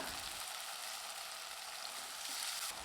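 Steady, dense hiss of tomatoes sautéing in hot oil for tomato rice, close and continuous, with no talking.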